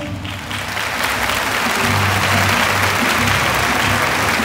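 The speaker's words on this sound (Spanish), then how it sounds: "un aplauso para ellos" A festival crowd breaks into loud, sustained applause for recognized guests, dense clapping swelling in the first second and then holding strong and even without pause.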